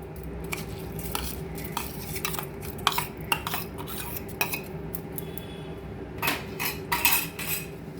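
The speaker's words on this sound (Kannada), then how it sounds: "1 ಕಪ್ ಅಕ್ಕಿ ತೊಳೆದಿಟ್ಕೊಂಡಿದ್ದೀನಿ, ಅದನ್ನು ಹಾಕ್ತಾ ಇದ್ದೀನಿ." Washed rice is tipped into a cooking pot for kara pongal, with repeated clinks and scrapes of a metal spoon against the pot over a low bubbling background, moderately close and without talk.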